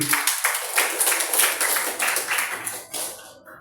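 Students clap together in a classroom after a group presentation, a brief burst of scattered hand claps that rises and thins out within a few seconds.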